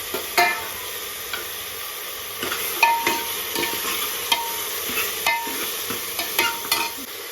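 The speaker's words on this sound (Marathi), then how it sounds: "मस्त शिजवून घ्यायचंय कांदा, टोमॅटो आणि शिमला मिरची" Onion, tomato and capsicum cooking in a pan for pav bhaji give a low continuous sizzle, with a spoon scraping and stirring in irregular clicks close by, with no talk.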